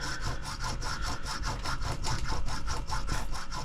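A small hand saw cuts rapid back-and-forth strokes through a part for a model GWR water tower, a close, steady rasping rhythm of about four strokes per second with no talking.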